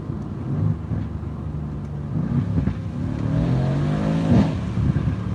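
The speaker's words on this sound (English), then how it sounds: "listen to the downshift" A car engine revs sharply as the driver downshifts, with rising and falling tones as the revs climb and settle. It is heard up close inside the car, with no talking.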